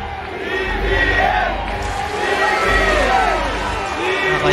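A crowd cheers and shouts at a Uniteam political caravan as the candidate walks through, with loud, continuous massed voices and rising chants filling the whole span.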